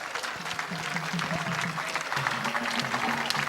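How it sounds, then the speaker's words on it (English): A crowd at a public event in Ghana keeps up steady applause, with voices murmuring underneath throughout. "the applause should be louder"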